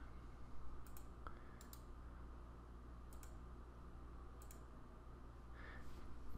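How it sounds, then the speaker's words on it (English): A computer mouse clicks a few times, faint and crisp, while copying a field in asset management software, over a steady low room hum with no one speaking. "So we're going to click here, select copy,"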